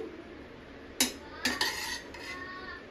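A spoon scrapes and clinks against a plate as egg fried rice is served. A few sharp metallic taps sound close by, with quiet room noise in between and no voices.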